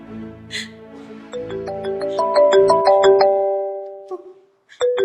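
A melodic electronic ringtone plays a rising run of tones, fairly loud and close, then cuts off with a brief pause and resumes.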